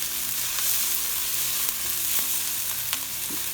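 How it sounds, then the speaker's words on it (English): Seekh kebabs frying in ghee give a steady close sizzle with small crackles and pops, continuous for a few seconds with no talking. "just going to add a tiny bit of ghee on there."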